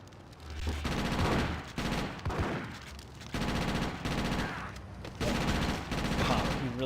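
Standard pistol gunfire in GTA Chinatown Wars, rapid repeated shots bursting loudly and fairly continuously over game music and effects, with a voice talking at times.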